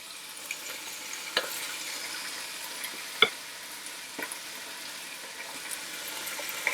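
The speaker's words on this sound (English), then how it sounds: "So with my oil heating up, I'm going to put chunks of the meat in," Large chunks of meat frying in heated oil for a cottage pie, a steady moderate sizzle with occasional sharp pops and crackles, no voices.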